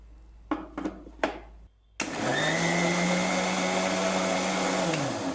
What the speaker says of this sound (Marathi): आता हे सगळं आपल्याला मिक्सरमधून फिरून घ्यायचं आहे